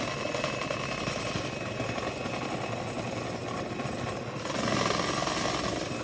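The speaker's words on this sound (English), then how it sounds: "we're going to continue with that portable mixer" A portable electric mixer beats blonde brownie batter, a continuous loud whirring buzz that runs throughout, rising slightly in intensity toward the end.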